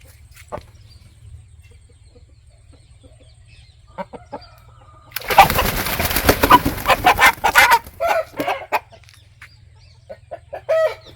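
Fighting rooster clucking in sharp, agitated bursts as it is lowered into a water tank during swimming training, close by, following a stretch of near quiet with splashing and scuffling.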